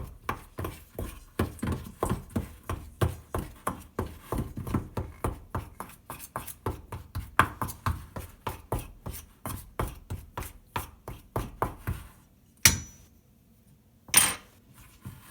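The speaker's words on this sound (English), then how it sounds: "I kind of just mix the shortening and the flour together" Shortening is worked into flour in a mixing bowl with quick, even strokes, roughly three per second, steady for about twelve seconds before stopping, followed by two sharper clinks.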